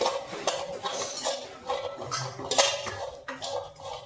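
Dry dates roasting in a pan as they are stirred, giving a steady run of close metallic scrapes and clinks of the utensil against the pan, with no talking.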